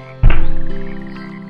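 A single loud, close frog croak starts abruptly and rings out as a sustained, pulsing low call with a buzzy, throbbing texture, heard alone.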